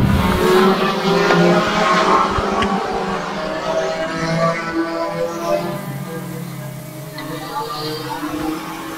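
Race cars roar past the flag stand at Brighton Speedway with loud engine whine, the pitch dropping as they pass, while a commentator talks over the noise.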